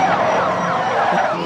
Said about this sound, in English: Just the amount of cop cars that are, heading for them is just comedic in itself to hear all the sirens